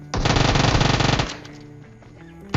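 Rapid automatic gunfire in a shooter video game, a loud sustained burst of about a second followed by quieter game ambience and a couple of sharp shots at the end.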